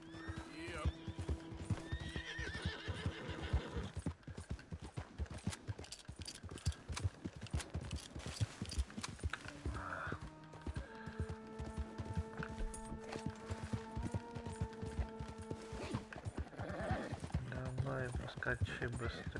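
Horse in Red Dead Redemption 2 neighing and whinnying with steady galloping hoofbeats, the clip-clop running throughout alongside game music and effects, loud and close.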